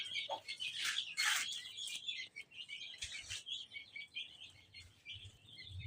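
Bird calls ring out in a village setting where a pigeon is being shown, with bursts of chirping and fluttering calls repeating irregularly, moderately near against quiet background.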